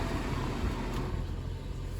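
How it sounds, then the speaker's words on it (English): Inside a running car, the interior AC blower fan blows as a steady, soft broadband whoosh, with faint low engine rumble beneath and no talk. "Okay, the fan in here is blowing."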